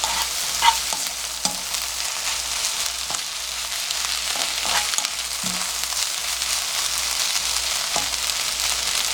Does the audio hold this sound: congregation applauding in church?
no